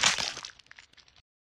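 A pumpkin is smashed in one sharp, loud crunching break that scatters into a short spray of smaller cracking and clattering bits as it fades over about a second.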